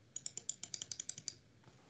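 Quick, light clicks come from a computer keyboard as keys are pressed in a rapid run of about a dozen taps, close and faint, ending with a couple of scattered presses.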